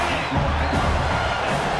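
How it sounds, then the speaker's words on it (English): A home crowd at a college football game involving Georgia Tech roars and cheers, a loud, dense, unbroken wall of voices throughout. "this home crowd is fired up and ready to make a difference today"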